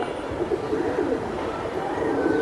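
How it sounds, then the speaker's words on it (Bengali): A pigeon coos in low, soft, repeated murmurs, close by and steady over a continuous background hum, among racing-line silver pigeons. "এই যে আরেকটা কবুতর আমরা দেখাই"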